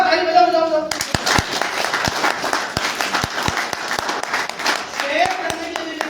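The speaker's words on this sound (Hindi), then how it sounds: "ताली बजाओ बजाओ" Audience applause at a Modicare business seminar, dense hand clapping from a large crowd that breaks out after a short spoken call and carries on steadily for several seconds, with a voice heard briefly before and near the end.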